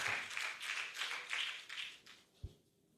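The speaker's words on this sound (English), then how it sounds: "Another round of applause for him." Applause from the audience at a health professionals' annual general meeting and scientific conference in Lagos: a couple of seconds of soft, quick clapping that thins out and fades to quiet, with one sharp knock near the end.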